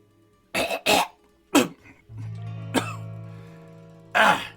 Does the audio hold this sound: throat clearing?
yes